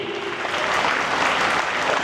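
An audience claps together in a steady, dense burst of applause that fills the moment, loud and close, with no one speaking over it.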